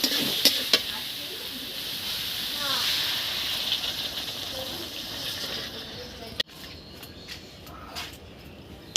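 Broth poured into a pan of sizzling fried raw banana for a fish curry, a hissing, bubbling sizzle with faint clinks and a sharp utensil tap, with a voice talking softly over it.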